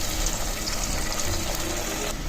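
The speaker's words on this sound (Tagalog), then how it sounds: "lagay po natin ng tubig." Water streams steadily into a cooking pot while a home-cooked dish is prepared, a continuous close pouring and filling rush with no talk over it.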